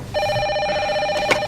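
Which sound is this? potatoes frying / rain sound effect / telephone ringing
telephone ringing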